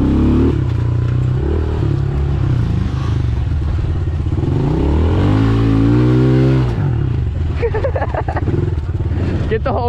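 A Honda Grom motorcycle revs hard while being ridden off-road through mud and ruts, its engine loud and close, rising and falling in pitch with throttle changes, while people talk over it.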